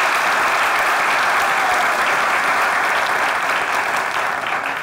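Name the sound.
audience applauding İlmi and Fatma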